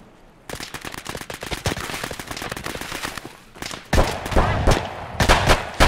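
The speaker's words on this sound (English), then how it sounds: "They were shooting at me too." Enemy gunfire in Escape From Tarkov: dense, rapid bursts of automatic shots and single cracks, loud and close, with heavier volleys toward the end and no talking.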